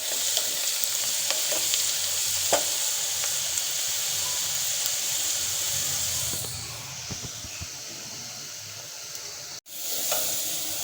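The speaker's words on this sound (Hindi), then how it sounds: "यहाँ पे प्याज भूनी जा रही है" Onions fry in a pan for an aloo anday curry, with a continuous close sizzle and crackle. Scattered pops and stirring taps sound over it, and the sound softens in the second half before a brief sharp click.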